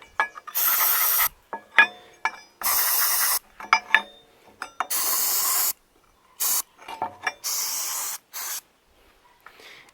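Rust Check Red undercoating sprayed from an aerosol can in repeated hissing bursts of a second or two, separated by short pauses and faint handling clicks, close and loud with no talking.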